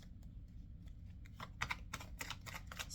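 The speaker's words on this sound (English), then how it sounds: "Give this deck a little shuffle." Tarot cards are shuffled close by, a quiet run of rapid riffling and soft flicks that grows busier halfway through.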